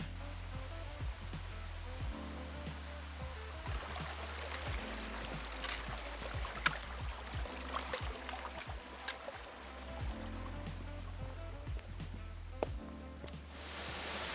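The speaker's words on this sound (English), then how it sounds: "So I'm here at the waterfall now." Steady rushing water at a waterfall in Mt Barney National Park, a broad continuous roar with splashing detail, fairly distant and even throughout, with no talk over it.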